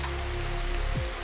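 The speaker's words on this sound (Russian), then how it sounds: "Дождь только усиливается, ветра нету." Steady, dense rain with no wind hisses continuously outdoors for the whole stretch, with a constant hum underneath and no voices.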